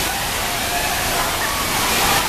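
Ditumabo Mother Falls in Baler pours steadily as a dense, broadband rush of falling water, continuous and fairly loud with no pauses, close enough to fill the whole scene.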